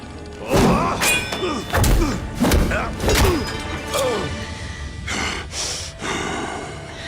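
Thuds of punches and kicks land in a dubbed historical drama fight, a string of heavy close impacts mixed with grunts and gasps from the fighters, spaced irregularly, then fading to scuffling.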